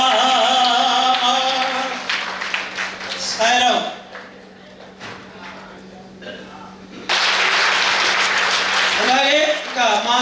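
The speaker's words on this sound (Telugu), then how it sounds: "చప్పట్లే" An audience at a festive gathering in Nellore bursts into loud clapping, first with voices over it, then after a quieter stretch a second strong wave of applause follows alongside speech.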